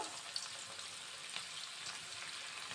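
Cabbage pakoda frying in hot oil, a soft steady sizzle with faint crackles, quiet and continuous without talk.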